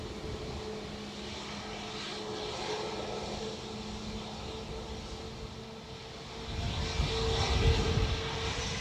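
An aircraft landing at Dublin Airport gives a steady distant engine drone that swells louder and rumbles heavier near the end as it passes closer.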